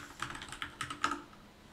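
Quick, light keystrokes on a computer keyboard as a Linux package command is typed, a short burst of about a dozen close, faint taps.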